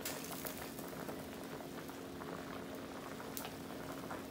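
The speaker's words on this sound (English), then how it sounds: "And sometimes I just add some of my juices out the pot into my shrimp shells and just let it boil for about 10-15 minutes." Shrimp shells boiling in a pot of juices for gumbo stock, a steady bubbling simmer with a low hum underneath, close and fairly quiet, no voices.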